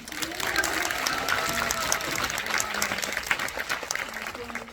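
An audience applauds at a Korean film guest-visit screening event for The Moon with an actor, a steady crowd clapping at moderate level, with speech-like tones drifting faintly underneath.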